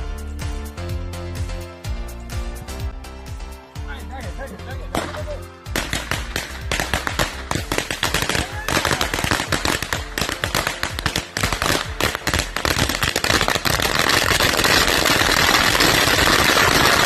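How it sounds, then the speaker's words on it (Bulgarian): A firecracker string over three metres long is set off, going from a sparser crackle into a dense, continuous barrage of loud sharp bangs that builds to a roar lasting many seconds. "Тук вече палим пиратки, тук чудо беше дълго над 3 метра."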